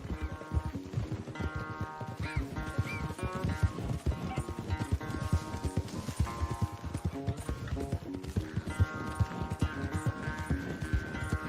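A horse gallops at full pace during a race in Red Dead Redemption 2, with fast, steady hoofbeats pounding close by under a continuous musical score.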